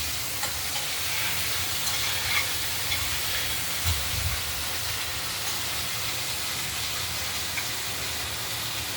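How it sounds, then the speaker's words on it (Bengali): Potatoes and vegetable stems fry slowly in a pan with a soft, continuous sizzle and hiss, steady and close, with no talking. "ডাঁটার আলুগুলোকে আমরা ধীরে ধীরে ভেজে নিচ্ছি"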